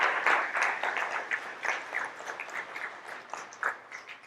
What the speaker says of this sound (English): I want one more round of applause for those amazing projects